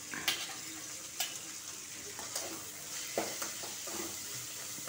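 Green chillies frying in hot oil give a soft continuous sizzle, with light stirring taps and scrapes scattered through, close but fairly quiet and without talk.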